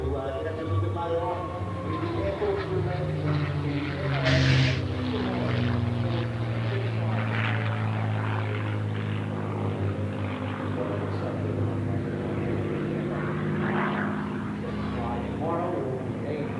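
P-51 Mustang propeller aircraft passing at an airshow on the Gold Coast, a droning prop engine that swells and fades, heard under continuous commentary.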